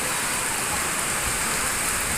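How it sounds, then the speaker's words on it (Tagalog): Heavy rain pours steadily on a rooftop, a dense, loud, continuous hiss with no pauses and no voices. "Ayan, lakas ng ulan."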